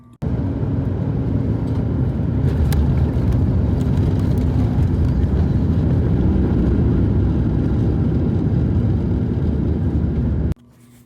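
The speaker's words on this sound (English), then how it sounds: "Now let's rate this landing." Cabin of a Flair Airlines jet landing on a flight from Miami to Toronto: a loud, steady broadband roar of engine and rushing air that holds for about ten seconds, then drops off abruptly.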